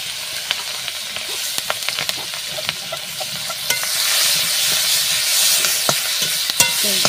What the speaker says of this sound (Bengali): মাছ ভাজার তেলে দিয়ে দিলাম।